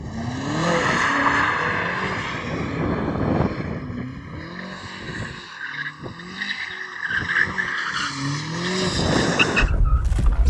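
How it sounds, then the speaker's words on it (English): A revving BMW engine rises and falls in repeated sweeps as the car spins its tyres to warm them before a race, with rough skidding tyre noise and a squeal toward the end; no voices. "Before we race, shall we warm up our tyres?"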